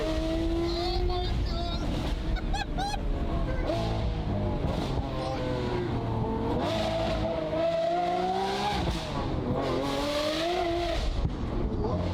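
Lamborghini Aventador Ultimae with a Valvetronic exhaust revving hard, the engine note rising and falling in loud sweeping pulls with crackling pops, steady and close throughout.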